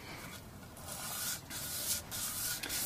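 A guitar neck is sanded with a weighted sanding block in close, steady rasping strokes, a continuous dry scrubbing with brief pauses between passes.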